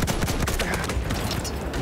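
Rapid self-loading rifle fire in the video game Battlefield 1, a dense burst of sharp shots against battlefield noise.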